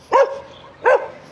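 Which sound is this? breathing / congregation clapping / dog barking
dog barking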